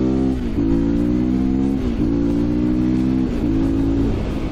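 A motorcycle engine warms up and revs in a few rising-then-settling surges, a loud, close, harmonic drone with brief dips between pulls.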